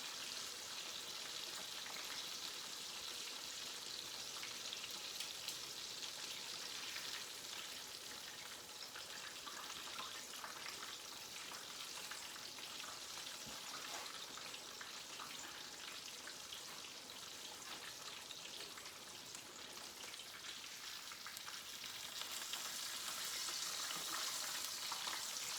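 A mustard-coated chicken thigh frying in bubbling oil gives a steady, faint crackling sizzle that holds evenly throughout, with no voices.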